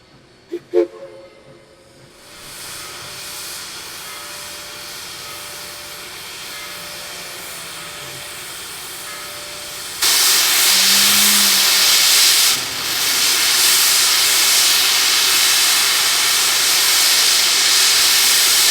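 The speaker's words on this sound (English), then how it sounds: "Former Southern Railway Ms-1 Class Mikado number 4501 stirs up the calm morning as she reverses down the TVRM's right-of-way to couple up to her consist." Southern Railway Ms-1 Mikado steam locomotive 4501 hisses steadily as it reverses on a calm morning, opening with a few sharp clanks, then a sudden louder blast of steam and a brief low tone partway through.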